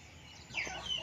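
Chickens clucking inside a shed by the door on a sunny day, waiting to be fed; one brief close cluck rises out of faint background for about a second.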